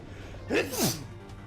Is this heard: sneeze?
yes